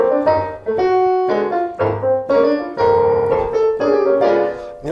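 A 1943 composition by Klein in a folk-like Lydian style, heard as a short passage of melodic instrumental music with rhythmic chordal phrases, full and close with no voices.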